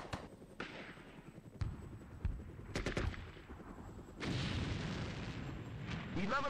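Gunfire in ArmA: Cold War Assault, a string of sharp shots and heavier bursts, some near and some farther off, over a continuous battle rumble.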